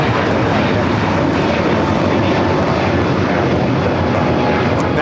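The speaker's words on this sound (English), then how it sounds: "That is Delta Airlines 1875 taking off to Los Cabos on the A321neo" A Delta Airlines Airbus A321neo jet takes off at LAX, giving a steady, loud broadband engine roar that persists throughout, with no clear speech.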